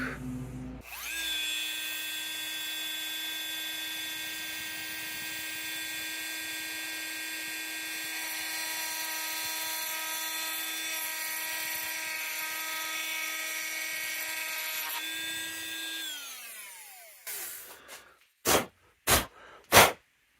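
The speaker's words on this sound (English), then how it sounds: "the procedure is basically a repetitive back and forth of what I'm doing right now with the Dremel" A Dremel rotary tool grinding a lower receiver, a high-pitched, steady whine held close for about fifteen seconds, then spinning down, followed by a few sharp knocks.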